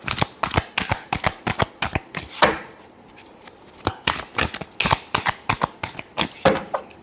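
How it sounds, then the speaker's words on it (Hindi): Tarot cards are shuffled in a rapid run of crisp riffling snaps, close and distinct, with a brief pause midway before the rhythmic bursts resume. "Last shuffle."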